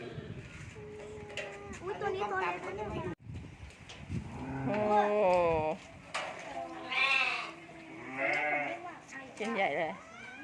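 Young lambs bleat repeatedly at close range among livestock, their wavering calls rising and overlapping in quick bursts while people chatter nearby.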